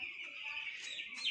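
Broiler chickens on a ventilated poultry farm with a capacity of 1400 birds cluck and chirp continuously, a faint, dense flock murmur with a few brief higher calls.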